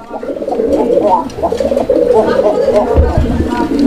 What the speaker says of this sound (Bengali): এই কোকাটাও ডাকতেছে মাশাআল্লাহ, আপনারা দেখতে পাচ্ছেন।